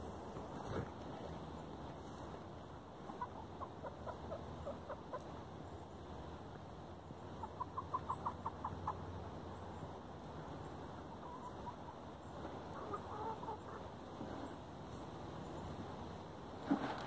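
Chickens clucking on a farm, a steady scatter of soft calls and clucks at mid distance over a constant outdoor background hiss, with a brief burst of livelier clucking midway.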